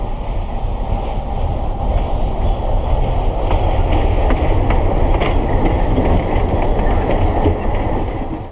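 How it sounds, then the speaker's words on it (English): A train rolls along the tracks near Machu Picchu on the Hidroelectrica route, a steady broad rumble with faint clickety-clack that stays loud and close throughout, with no talking. "there's another train coming down the tracks, coming around the corner there"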